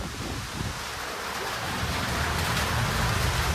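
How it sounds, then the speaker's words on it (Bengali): Rain starts falling outdoors at a crossroads in Nabagram, Murshidabad, giving a broad, steady hiss of drops that thickens slightly over a few seconds, with no voices. "এখানেও বৃষ্টি শুরু হয়ে গেল।"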